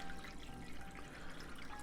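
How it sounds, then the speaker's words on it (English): Water poured steadily into a pan set beside a custard pie for baking, a continuous close trickle and splash with no voices. "I've been pouring water into our pan"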